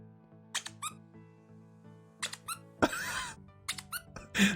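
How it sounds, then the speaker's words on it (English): Squeaky toy sound effect from the Minecraft modpack FTB Revelation, sounding in several short bursts of high, pitched squeaks separated by pauses, with a brief noisy burst in the middle, over a quiet steady background tone. "The squeaky toy sound effect is too much."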